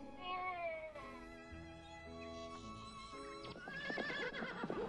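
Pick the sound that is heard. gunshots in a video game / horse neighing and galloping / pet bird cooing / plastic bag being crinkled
horse neighing and galloping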